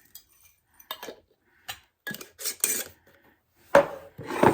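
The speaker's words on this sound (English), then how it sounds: "I've got some dehydrated carrots I had done. Still see them. Just going to sprinkle some of them in there." Dehydrated carrots sprinkled by hand into a crockpot for vegetable beef soup, heard as a few separate dry rattling, rasping bursts spread across a few seconds, close by, with no talking.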